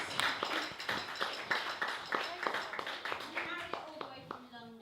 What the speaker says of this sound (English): can we have a round of applause for my housemates Jared, Jess, Chris and Michaeli and Grace